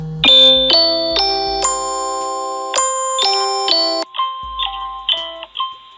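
Zmodo Greet Pro 1080p Wi-Fi video doorbell chime playing loud, close electronic tones, a sequence of sustained ringing notes followed by a shorter run of quicker repeated tones.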